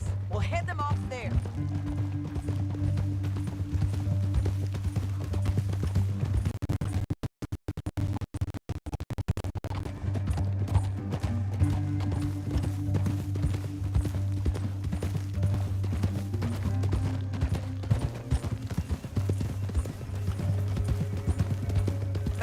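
Rhythmic clip-clop of horse hooves at a gallop in the video game Red Dead Redemption 2, steady and fairly loud over a low droning background, with a brief dropout midway.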